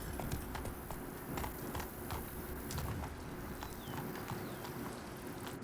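Roach, a horse in The Witcher 3 video game, trots with light, rhythmic clip-clop hoofbeats at moderate loudness over low game ambience.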